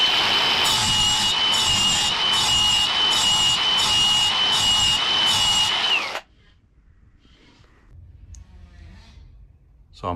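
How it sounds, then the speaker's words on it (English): Lawnmower blade edge being sharpened with a power tool, a loud, steady whining grind with rhythmic rubbing strokes for about six seconds, then cutting off to near silence with faint handling noise. "now I'm going to put an edge on it"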